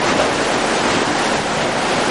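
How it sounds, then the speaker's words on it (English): Ocean waves roll in at Laguna Beach, a loud, continuous rushing surf with wind noise buffeting the microphone. "There's a lot of rushing water and a lot of waves"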